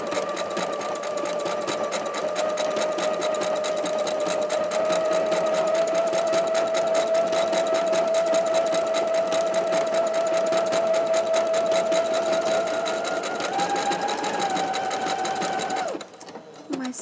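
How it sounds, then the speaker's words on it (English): A sewing machine runs steadily at speed with a whirring, rattling hum, rising slightly in pitch near the end before stopping abruptly. "my sewing machine sings."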